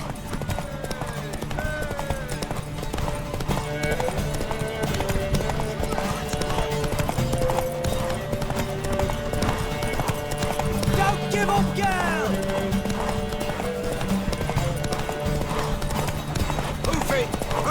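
Rhythmic clip-clop of horse hooves throughout in The Witcher 3, with a horse whinnying at moments, mixed with game music and voices talking over the action.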